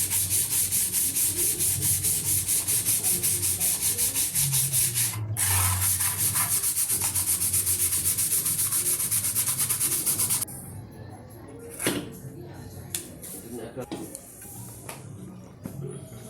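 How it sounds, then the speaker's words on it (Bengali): Sandpaper rubs over a wooden fan in rapid, even back-and-forth strokes for about ten seconds, loud and close, then gives way to scattered light handling noises. "একটা সিরিজ কাগজ দিয়ে খুব সুন্দরভাবে ঘষে নিয়েছি, যাতে ময়লা না থাকে এবং খুব সুন্দর একটা মসৃণ ফিনিশিং আসে।"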